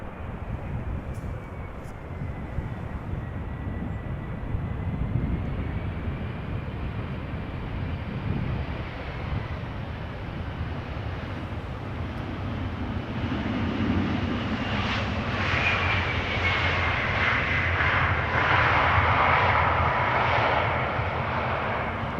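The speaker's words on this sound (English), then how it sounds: "This is KLM flight 1740, Embraer 175, 5 years old, first flight April 2018." A KLM Embraer 175 jet airliner at Amsterdam Schiphol Airport produces a steady broadband engine roar that swells over the final seconds, with wind noise on the microphone and no talking.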